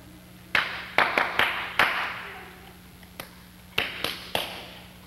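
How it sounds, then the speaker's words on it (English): A person claps out a set rhythmic pattern for someone to copy on a 1990 television show: sharp, separate hand claps in short uneven groups with brief pauses between them, close and clear with no talking. "I will clap in a certain pattern, and I want you to repeat it exactly"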